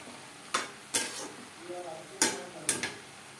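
Radish frying with small fish in a pan, stirred in four sharp spatula scrapes spaced across a few seconds over a faint background sizzle.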